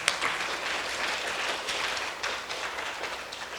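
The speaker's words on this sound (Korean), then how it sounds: "조 이사장님께 다시 한번 큰 박수를 부탁드립니다" Audience applause in a university lecture hall following a talk, a moderately loud, textured patter of many hands clapping throughout, with no speech.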